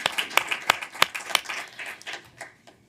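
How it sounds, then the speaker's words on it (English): An audience at a county school board meeting claps for a high school choir with distinct individual claps that thin out and fade to near silence. "Give them one more round of applause."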